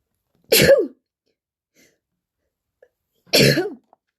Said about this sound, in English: I'm just going to sneeze